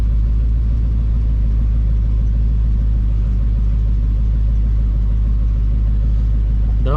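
A classic MG MGB idles loudly as it backs out of a garage, a deep steady engine rumble that holds without letup.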